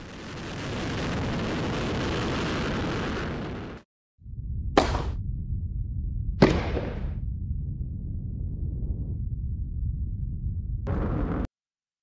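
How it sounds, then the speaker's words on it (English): The Delta II rocket's main engines ignite and lift off carrying the SMAP soil-moisture satellite: a loud, dense roar that cuts off abruptly, then a lower rumble broken by several sharp bursts. "Main engines start and lift off of the Delta II rocket with SMAP"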